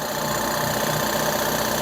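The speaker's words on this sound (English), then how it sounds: "I'm gonna wait for the air compressor to quit going." Air compressor running in a garage, a steady, loud mechanical drone with a faint knocking rhythm and no break.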